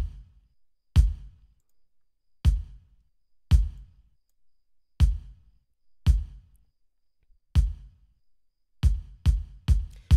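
A deep, low bottom kick drum made in FL Studio for a worship beat thumps alone in a sparse pattern of single hits, ending in a quick run of closely spaced beats, each punchy with a short booming decay.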